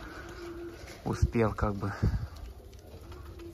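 Pigeons coo near a loft as new birds are released, a short burst of throaty cooing partly overlapped by someone talking.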